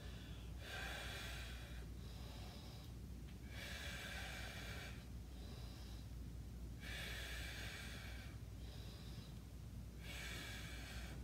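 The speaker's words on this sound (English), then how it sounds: "Full inhale, full exhale." Slow, deep breaths during a stick mobility workout class, with long inhales and exhales alternating in a steady rhythm, close and fairly quiet with nobody speaking.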